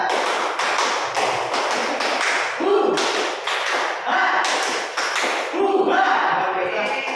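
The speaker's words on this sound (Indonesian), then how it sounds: "Tepuk semangat 1, 2, 3." A group performs the 'tepuk semangat' clap routine, sharp rhythmic claps in short bursts and patterned sets, close and loud, with voices chanting along between the clap sequences.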